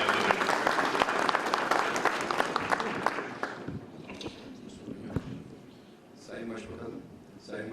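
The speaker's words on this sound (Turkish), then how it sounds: "Alkışlarla huzurunuza davet ediyorum." Audience applause welcoming an Istanbul MP onto the stage at a Circassian associations federation general assembly, dense clapping that thins out after a few seconds, with some murmuring and movement left behind.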